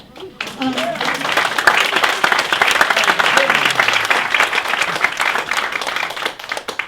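An audience breaks into cheering and steady applause at a talk, a dense wash of clapping with shouts rising over it, swelling quickly and then tapering off.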